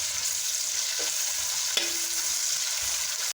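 Onion, green chili, garlic, shallots and crushed ginger sauté in hot oil for a Kerala-style pork fry, a close, constant sizzling hiss with occasional soft stirring scrapes, uninterrupted by any voice.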